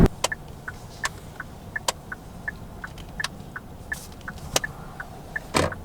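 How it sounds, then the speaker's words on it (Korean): Inside a car, a turn signal ticks in a steady rhythm while the steering wheel is turned, joined by sharper, irregular clicking catches; both sounds are close and distinct over a quiet cabin hum, with no talking. "이제 깜빡이를 작동시키고 나서 핸들을 돌렸을 때 이제 그 걸리는 소리가 나요"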